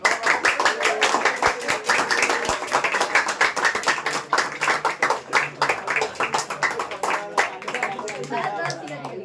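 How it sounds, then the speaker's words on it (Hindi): Classroom applause for a student named Pushkar, a quick burst of close hand claps from a group that runs steadily throughout with voices mixed in. "तालियां हो जाए पुष्कर भाई के लिए।"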